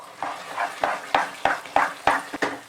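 Thick custard powder halwa is stirred in a pan with about eight rhythmic scraping strokes, each a short, close swish over a soft, steady sizzle.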